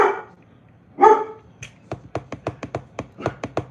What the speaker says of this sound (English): Redford screams when he barks.